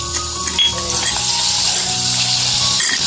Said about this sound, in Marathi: आता हे काजू भाजून घेते, तळून घेते भाजून।